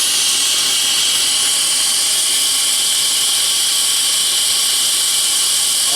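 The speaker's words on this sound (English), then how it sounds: "Keep the flame on it because it'll cool off." A torch flame roars with a steady, loud hiss as it heats the copper refrigerant lines of a compressor on a Rheem two-stage rooftop air conditioner. The roar holds constant throughout, with no voices.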